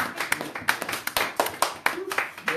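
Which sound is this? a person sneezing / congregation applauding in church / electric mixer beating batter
congregation applauding in church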